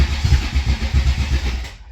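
A car engine with a freshly rebuilt Holley 750 Double Pumper carburetor cranks over in loud, close, rhythmic pulses for nearly two seconds, then cuts off abruptly, with no voices.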